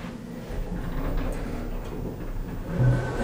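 A ThyssenKrupp traditional oildraulic elevator door at the Hershey Lodge slides slowly, giving a steady low rumble and hum with faint rattles. It ends in a slightly louder thud near the close, with no talk over it.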